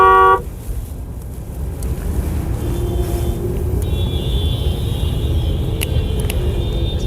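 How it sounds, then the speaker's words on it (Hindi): Road traffic jam on the N10 highway: heavy engine rumble close by, a brief horn toot at the start, then a long sustained honk. "ट्रैफिक दिखाता हूँ आपको"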